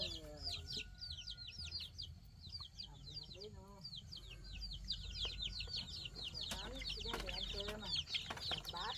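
Chickens clucking and chirping while being fed rice, a steady scatter of short calls over low background noise.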